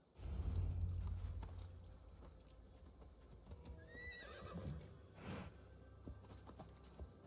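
A horse whinnies over the soft clip-clop of hooves in a forest in Assassin's Creed Valhalla, opening with a low rumble; fairly quiet and distant-sounding, with no talk.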